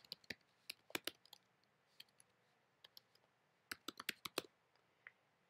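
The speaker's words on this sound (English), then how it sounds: "So I'm just going to go ahead and type it in." Someone types a short web address on a computer keyboard: quiet, close key clicks in uneven bursts with brief pauses, alone and without talk.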